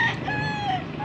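A hen offered for sale at a poultry auction in Angeles, Pampanga gives a brief nasal call with wavering tones over a busy crowd murmur.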